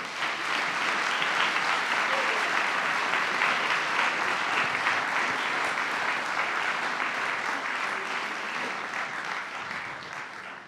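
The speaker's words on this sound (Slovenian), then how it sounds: "Prosim en aplavz za vse vas in vse nastopajoče" Sustained audience applause after saxophone performances at a festival in Bled, dense and steady throughout, with a slight fade near the end.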